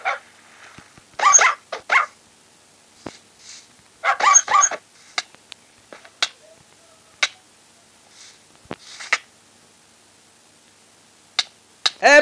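A dog barks in a Minecraft-style lucky skyblock video game, several sharp yips and barks in short bursts spread across the clip with quiet gaps between them, fairly close and clear.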